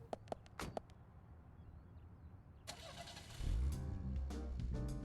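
A car engine cranks and starts in the video game Deadly Premonition, following a few sharp clicks and quiet background; the engine catches with a rising roar and settles into a loud, revving idle.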